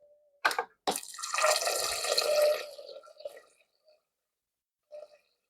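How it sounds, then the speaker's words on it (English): Water poured into a rice pot up to the fill line: a couple of sharp clunks, then a gushing pour lasting about two seconds that tapers into drips, with a faint final clink. "Now that I filled my water line"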